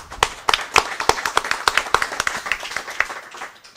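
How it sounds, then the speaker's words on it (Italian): At a national association assembly, members clap to approve a lawyer as chairman, giving brief, moderately sized applause with distinct individual claps, close and fairly loud. "Se è accettato, un applauso"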